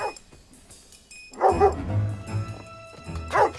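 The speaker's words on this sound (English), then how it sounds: "Freaking dog. All he does is bark." A dog lets out a few barks, one at the start, a louder pair in the middle and another at the end, close and clear over a low background murmur in a film scene.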